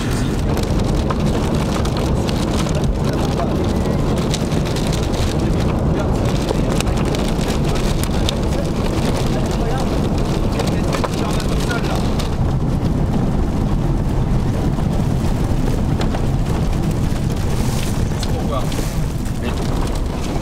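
A heavy hail storm pounds a vehicle on Route 66 during a storm chase, a dense, loud, continuous roar of hailstones with wind noise and a person talking under the din.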